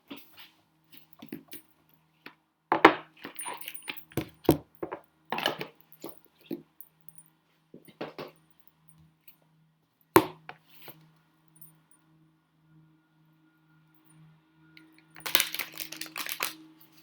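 Oracle cards shuffled by hand, giving irregular bursts of papery riffling and flicking. A low steady hum runs underneath, and a longer hiss-like shuffle comes near the end.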